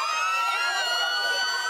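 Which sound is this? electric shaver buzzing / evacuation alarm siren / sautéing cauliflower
evacuation alarm siren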